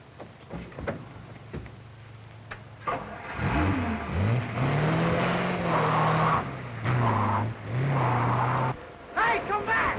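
A 1937-era car engine roars up and revs hard during a chase, rising and falling in pitch with sustained loud droning, after shouted voices and with more yelling near the end.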